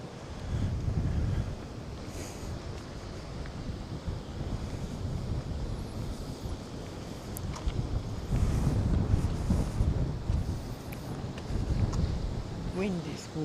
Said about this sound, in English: It is a very windy day. I don't know how the sound's going to come out on this